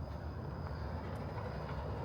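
An Amtrak Northeast Regional passenger train pulls in southbound at Ashland, Virginia, a steady broad rumble of wheels and rails that stays even and fairly close throughout.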